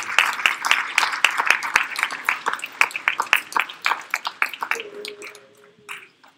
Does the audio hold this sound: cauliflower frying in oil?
no